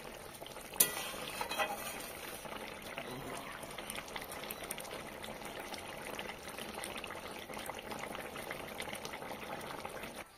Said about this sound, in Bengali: ধনেপাতা কুচিগুলি আমি তরকারিতে মিশিয়ে দিচ্ছি।